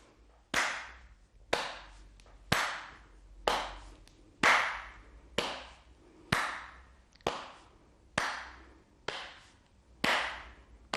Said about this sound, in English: And your taps and claps.